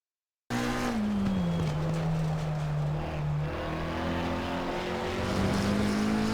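McLaren 720S EVO GT3 race car lapping Silverstone in the Assetto Corsa Competizione video game, engine droning loud and steady with pitch dips and climbs through gear changes and corners, plus some tire squeal, no voices.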